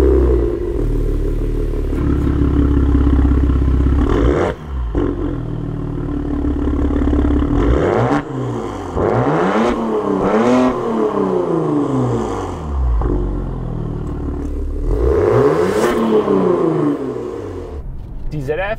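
Maserati Quattroporte S Q4 Gran Sport in sport mode, its engine and exhaust revving up and down repeatedly through an automatic gearbox, loud and close, with rising and falling pitch sweeps between pauses.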